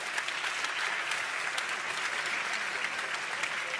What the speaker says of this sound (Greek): Να ευχαριστήσουμε και να χειροκροτήσουμε τους χορηγούς μας.